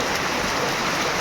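Heavy rain falling, a dense continuous hiss of downpour, loud and steady with no pauses.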